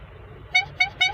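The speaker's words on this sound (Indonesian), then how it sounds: "Ini namanya klakson unik, pokoknya klakson unik." Three short, bright blasts from a novelty truck horn with a rising, musical tone sound in quick succession over a low rumbling engine idle.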